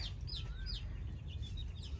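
Three chickens being brought to water at a rural homestead in the evening cluck and chirp faintly against a steady low rumble of background noise.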